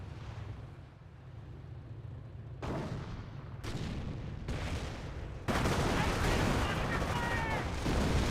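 Half-track barrage and rifle gunfire in the WWII strategy game Company of Heroes: dense, rumbling volleys of shots and blasts that swell in steps and grow heavier toward the end, with a commentator talking over them.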